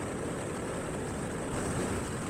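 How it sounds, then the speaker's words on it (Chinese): Strong wind buffets a motorcycle on a mountain road in Turkey, a continuous loud rushing roar of gusts against the microphone, swelling slightly toward the end, with no speech. "Oh my god! It's too strong the wind."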